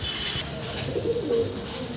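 Pigeons coo in low, throaty, rolling calls close by, one bird repeating a short phrase against a soft background.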